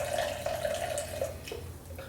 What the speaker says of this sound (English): I'm going to pour some of this juice into the cup.